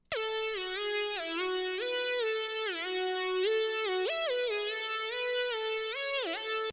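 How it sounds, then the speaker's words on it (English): A bright, buzzy synth lead for a rage beat plays a melody with gliding pitch bends between notes, loud and steady throughout, with no voices. "Next up, I have the lead, which is going to sound like this."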